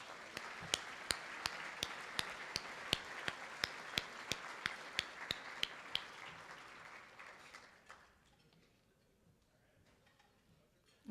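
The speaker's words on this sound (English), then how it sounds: "Let's give them a round of applause." Sparse, evenly paced claps sound at a Torrance Area Chamber of Commerce 100-year celebration, a faint steady rhythm that fades into quiet room murmur.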